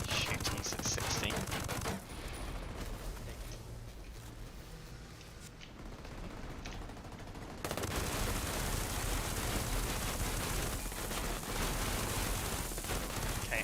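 Gunfire in the video game Ghost Recon Breakpoint: dense, sustained bursts of rapid shots that ease off briefly and then return at full intensity, with occasional faint voices.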